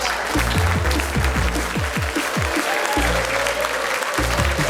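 A live studio crowd at a GamesMaster Street Fighter showdown breaks into sustained, loud applause and cheering that fills the space from start to finish.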